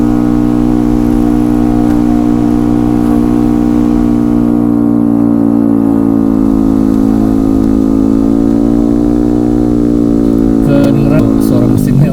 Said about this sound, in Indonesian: Suara mesinnya udah ngerayu, nggak turun-turun.